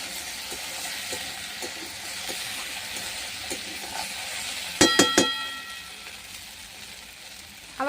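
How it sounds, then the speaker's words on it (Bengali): Okra sizzles in a frying pan with a soft continuous hiss and faint scrapes, then a short burst of sharp metallic clanks near the end, close and without talk. "ভেন্ডিটা আমার ভাজা ভাজা অর্ধেক হয়েছে, আর একটু ভাজবো"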